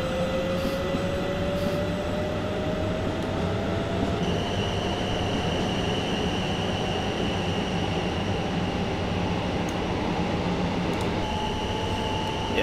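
Electric multiple unit train (Class 450) in the Train Simulator 2018 game running at speed: a steady, continuous rumble of wheels on rail with a slowly rising motor whine and occasional high tones, loud and unbroken with no talk.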